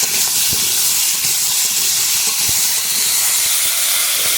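Vegetable pieces of kohlrabi frying in oil in a kadai, seasoned with salt, give a steady loud sizzling hiss that runs unbroken throughout, close up, with a few faint knocks and no talking.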